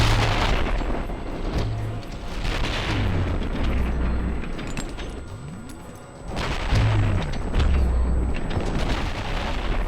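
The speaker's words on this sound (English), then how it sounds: "We're tossing grenades back and forth." Repeated grenade explosions in the F.E.A.R. Perseus Mandate video game, with heavy booming blasts and gunfire-like bursts recurring over a continuous loud battle din.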